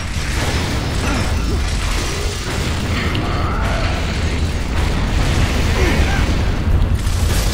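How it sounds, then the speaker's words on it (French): A loud, dense explosion and battle din from the Gears of War video game, with continuous rumbling, crackling bursts and mechanical clatter throughout and no pauses. "Gare à l'explosion."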